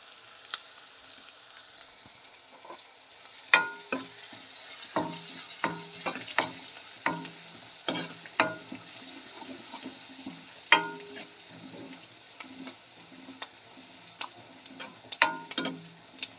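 Pumpkin poriyal with curry leaves frying in a pan gives a soft, steady sizzle, broken by frequent sharp clicks and scrapes of a spatula stirring against the pan.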